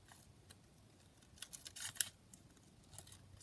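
Scissors cut out vellum paper in a craft setting, giving quiet, sparse snips and crisp crinkling paper sounds, with a louder cluster of cuts midway.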